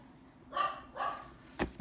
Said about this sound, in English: that's my dog barking because somebody else is barking out there